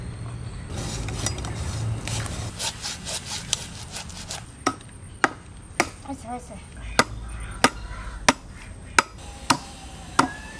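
A 2 kg river kalbaus fish being cut on a sharp bonti blade: a run of sharp, evenly spaced chopping knocks that grows more regular, close and loud, with some talk early on.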